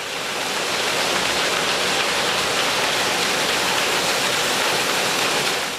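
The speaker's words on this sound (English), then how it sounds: "gravity kicks in and the two ingredients are sent tumbling down pipes and tubes, mixing themselves together as they cascade in a hot, wet flush into the old mash tun" Hot brewing liquor and malt grist rush down pipes and tubes into an old mash tun at a Hampshire brewery, a steady, loud, broadband watery roar like a waterfall that holds unbroken throughout with no voices.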